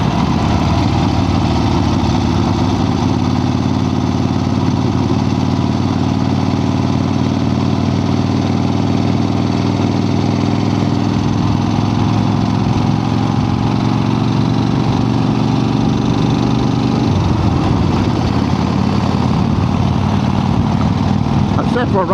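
A 1975 Harley-Davidson XLCH motorcycle engine idling, a loud, steady rumbling throb that holds for the whole stretch before shifting in tone near the end.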